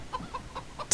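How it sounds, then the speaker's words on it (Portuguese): A chicken in the video game Minecraft Story Mode clucking in a quick series of short, evenly spaced clucks, close and clear, ending with a sudden louder burst. "Uma galinha, não."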